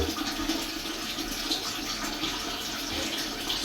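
A toilet cistern refilling with water after a flush, a steady close rushing hiss of running water that holds at an even level throughout, with no voices over it.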